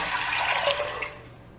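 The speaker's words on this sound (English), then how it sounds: "I'll transfer 4 cups of water to this" Four cups of water poured into a pressure cooker with rinsed dal, a bright splashing gush that fades out near the end, with no talk over it.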